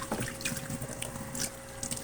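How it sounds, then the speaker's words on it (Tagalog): Water poured from a container onto soil sown with lettuce seeds, giving a steady close splashing and trickling wash that runs throughout with small irregular bursts and no talk. "Lagyan natin ng tubig"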